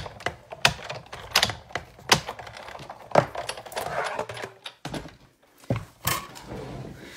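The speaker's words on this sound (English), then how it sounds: "So now I'm going to cut out the little heart." Scissors cut a small paper heart shape, giving a steady run of sharp, close snips and clicks in an irregular rhythm, some louder than others, without talk.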